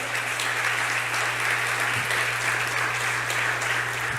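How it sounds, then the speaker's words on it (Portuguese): Congregation at a church service applauds with sustained, even clapping throughout, a constant low hum running underneath the crowd. "Aplauda ao Senhor."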